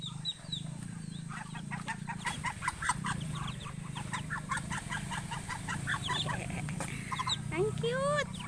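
Eight chicks peep in high, rapid bursts beside their mother hen, which gives lower clucks near the end, all close up over a steady low background hum while a person talks quietly.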